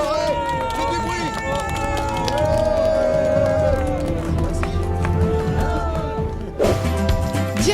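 A crowd at an outdoor mass-start event in Maurienne applauds and cheers, a steady dense roar of clapping and shouts running throughout with voices mixed in.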